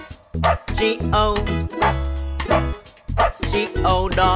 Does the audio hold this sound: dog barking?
yes